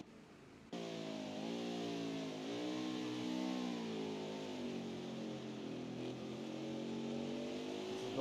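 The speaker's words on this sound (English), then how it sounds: "Listen to that car." Race car engine from an Xfinity Series racing video game on the Indianapolis road course, a loud steady roar that kicks in abruptly after a brief quiet start, with harmonics rising and falling as the car shifts and accelerates, alone without talk.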